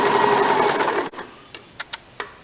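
A sewing machine double-stitches a lined blouse in a quick continuous whirring run for about a second, then stops, followed by a few soft clicks and taps.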